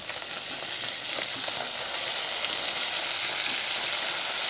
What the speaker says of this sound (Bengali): মাছগুলোকে এবার আমি তেলের মধ্যে ভেজে নিচ্ছি।